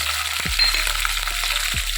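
Green chillies dropped into hot oil with mustard seeds, urad dal and curry leaves for a tempering, giving a steady close sizzle with a couple of sharp stirring clinks, no talk.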